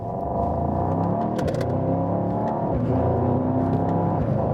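A Mercedes-AMG GT 63 Coupe pulls away gently in second gear on a public road. Its engine drones steadily and loudly as it accelerates for several seconds.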